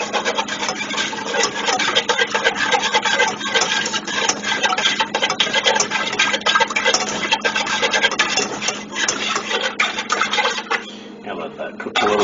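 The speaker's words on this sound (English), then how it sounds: "Got to whisk that in there." Milk is whisked into a mixture in a pan, with a dense, continuous rapid scratching and scraping of the whisk against the pan close up, steady for the whole stretch with brief unsettled moments near the end.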